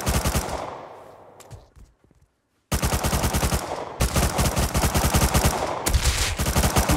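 Automatic gunfire in the survival video game Rust: long, loud, rapid bursts of shots, a brief quiet pause, then sustained firing resuming in several strings of close, hard cracks.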